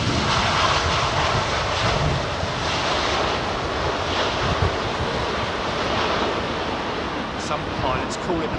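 Airliner touching down on runway 27R at London Heathrow, a steady broad engine roar with wind buffeting the microphone throughout, continuous and fairly close.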